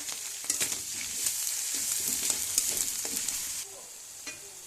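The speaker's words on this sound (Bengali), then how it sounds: "চিংড়ি মাছটা ভেজে নিচ্ছি" Shrimp fries in a pan for a shrimp and flat bean curry, with onion paste going in. Steady close sizzling carries bursts of spattering and stirring scrapes, and there is no talking.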